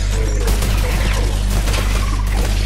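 A turret fires in a Fortnite video game match, a loud dense fusillade of rapid shots that runs unbroken through the whole moment.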